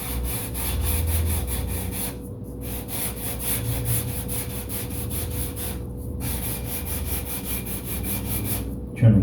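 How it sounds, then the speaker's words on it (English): Continuous, steady sanding of the horizontal stabilizer from a giant-scale P-47 Razorback model airplane, close and loud with even back-and-forth strokes, pausing briefly twice and ending with a bump. "So I'm just going to sand it smooth to a certain degree."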